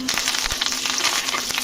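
Curry leaves crackle and sizzle in hot oil for tempering a dosakaya pachadi, a loud, steady frying hiss with quick popping spurts, close by and alone.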